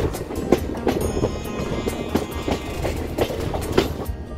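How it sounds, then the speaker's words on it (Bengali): The Kanchanjunga Express from Kolkata toward Agartala rolls around a curve, its wheels giving a steady clickety-clack with regular rhythmic thumps over the joints and a constant rumble, heard from inside the carriage. "ট্রেনটা পুরো ঘুরে যাচ্ছে একদম এই পাশ থেকে টান দিয়ে।"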